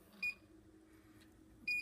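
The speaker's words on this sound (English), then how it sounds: "The beeping you hear now is meaning you're coming close to the already preset safety limit." A Losmandy Gemini 2 telescope mount gives two short electronic beeps about a second and a half apart as it nears its preset safety limit, clear over a faint background hum.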